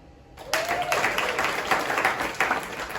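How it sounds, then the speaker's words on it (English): A comedy audience breaks into applause, a dense wash of clapping that starts abruptly and holds steady and fairly loud for a few seconds, with faint voices mixed in. "Clap if you enjoy hiking."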